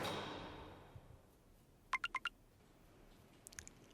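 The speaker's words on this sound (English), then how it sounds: "Oh, I thought that was my phone, but it was Bonnie's phone." A mobile phone notification chime, a quick run of four bright tones near the middle, followed later by a fainter short chirp over low background hiss.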